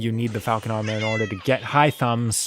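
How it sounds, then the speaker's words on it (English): A pet cat meows loudly and close several times in drawn-out, pitched cries, with a person speaking over it while a video game plays. "That's my cat."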